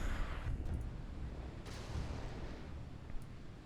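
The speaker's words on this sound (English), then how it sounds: "That's their self-defense missile systems." Warship self-defense missile systems firing in the naval combat game Sea Power, a steady low rumbling roar with a few faint sharp pops over about four seconds, fairly quiet and continuous.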